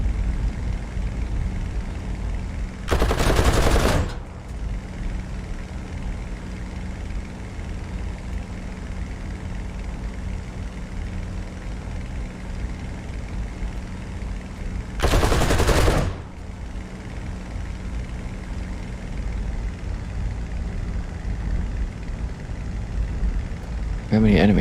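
Two short, loud bursts of machine gun fire sound in a flight simulator video game, set well apart, over a steady engine drone.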